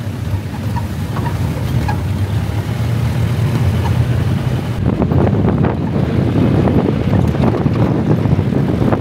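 Wind roars steadily against the microphone during a boat ride, a constant rushing buffet with water and engine rumble beneath it, growing gustier in the second half.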